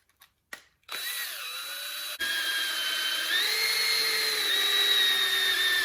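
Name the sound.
power drill spinning oil pump to check oil pressure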